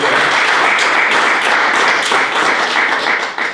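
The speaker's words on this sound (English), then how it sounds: "Can we clap our hands to Jesus Christ?" A congregation claps hands together during a church homegroup service, with dense, sustained applause that stays loud throughout and tapers slightly at the end.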